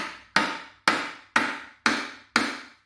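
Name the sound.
hammering the sides of a blown transmission case to split it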